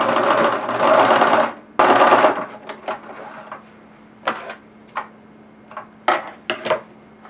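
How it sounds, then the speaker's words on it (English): Sewing machine stitching a quarter-inch seam through fabric for an infinity scarf: two steady whirring runs up close, then scattered light clicks and taps as the work is handled. "it's time to go back to the sewing machine"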